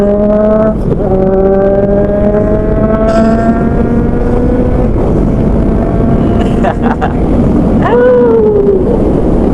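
A big bike motorcycle engine drones loudly and steadily with wind rush, its pitch shifting as it speeds up and eases off, heard up close by a passenger while riding.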